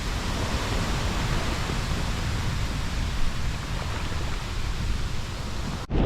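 Big hurricane swell crashes as surf, a dense, loud and continuous roar of breaking waves and wash with no talking.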